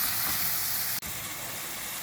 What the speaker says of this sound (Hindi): अब इन मसालों को भी हम अच्छे से भून लेंगे।